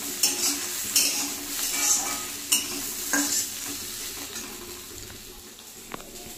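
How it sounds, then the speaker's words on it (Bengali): Food sizzling and frying in a pan on a home stove with a utensil stirring and scraping, a steady close hiss broken by a few metallic knocks. "আর আমার এদিকে রান্না হচ্ছে।"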